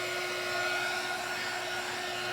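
A hair dryer blows steadily and loudly up close, drying a painted mini farmhouse ladder craft piece; one continuous whir with a fixed motor hum and no talking.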